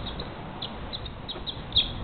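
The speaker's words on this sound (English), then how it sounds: "I think he's a barn swallow." A lone barn swallow calls before dawn with a string of short, faint chirps spaced irregularly over soft outdoor background noise, one slightly louder note near the end.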